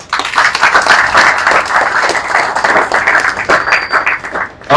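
A large audience gives loud, sustained applause, close and dense with overlapping hand claps, easing off briefly near the end before surging again.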